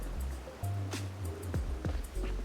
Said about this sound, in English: The river is so wide and placid